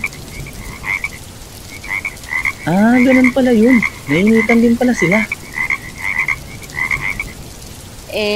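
Frogs croak in a cluster of rising, throaty calls in the middle of a cartoon scene, over a steady hiss like rain. People talk quietly around them.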